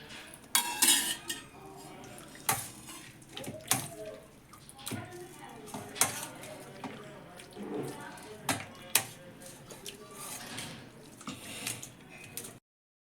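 A masher works boiled pav bhaji vegetables in a metal pan, giving repeated knocks and scrapes against the metal with soft squelching in between, close and moderately loud. A voice talks faintly at times.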